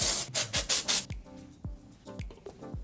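A can of drugstore dry shampoo sprays onto hair in several short, close hissing bursts, followed by softer rubbing and thumping sounds of handling.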